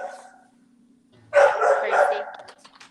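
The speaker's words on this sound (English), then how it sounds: "Oh, somebody's ready to talk. That's my puppy." A young puppy in training lets out a short burst of close, loud yappy barks and whimpers after a quiet pause, with a faint whine before it.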